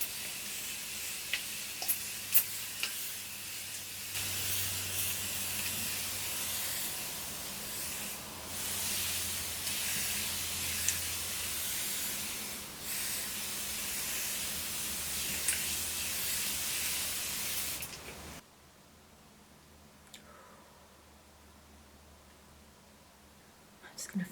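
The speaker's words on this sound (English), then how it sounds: "So I'm just gonna spray this all over." Thermal water mist sprays onto a face in long steady hissing bursts, close and continuous, with brief breaks between sprays before the hiss stops.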